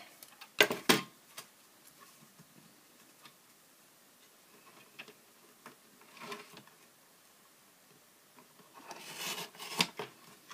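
Scissors snip through a small cardstock bookmark slider, a few crisp close cuts near the start and a cluster toward the end, with quiet handling rustles in between and no voices.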